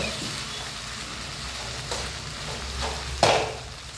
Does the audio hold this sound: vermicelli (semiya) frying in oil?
yes